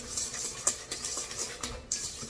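A utensil stirs cinnamon and vanilla into batter in a bowl with a steady soft scraping and swishing, plus a few light clinks against the side, with no voices.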